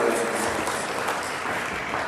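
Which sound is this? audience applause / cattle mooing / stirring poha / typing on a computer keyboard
audience applause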